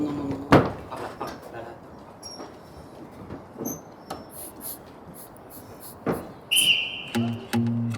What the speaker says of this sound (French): Tu peux me faire un coup de sifflet